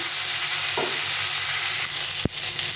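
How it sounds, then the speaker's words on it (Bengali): Sliced ridge gourd frying in oil in a pan gives a continuous close sizzle, with a soft stirring scrape partway through and a sharp utensil knock near the end. "এই ঝিঙেটাকে একটু ভেজে নিতে হবে একটু ভালো করে ভেজে নেব"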